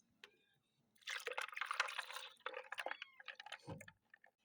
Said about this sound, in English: Pour it right into your blender. Add you a cup of milk.